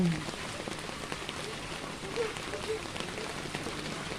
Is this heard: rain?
yes